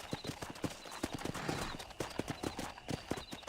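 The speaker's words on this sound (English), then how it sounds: "Montar no cavalo." Horse hooves in the Red Dead Redemption video game, a quick, even clip-clop of a trotting horse, close and prominent over light ambient background, with no talk.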